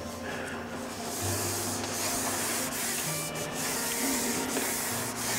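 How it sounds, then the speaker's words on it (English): A baby wipe drawn gently along fishing pole sections, giving a steady, close, continuous rubbing and swishing sound with a faint background hum and no speech. "So you just peel a baby wipe out and just run them down your sections nice and gentle"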